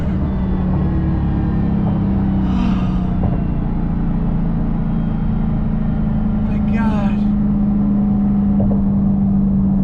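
Dodge Challenger Demon muscle car engine revving on throttle, a steady loud rumble with rises in pitch, while someone shouts and cheers over it.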